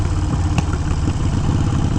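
A Harley Sportster 883 engine fitted with a Hammer 1275 kit runs at low RPM, producing a loud, close, dense rapid-fire rumble with a steady pulsing beat.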